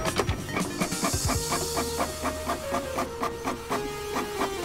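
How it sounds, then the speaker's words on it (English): An inkjet-style printer runs inside the Camp Buddy video game, chattering and clicking in a steady, repetitive rhythm with whirring mechanical passes, loud and close, with no voices. "We love the sound of a printer going off"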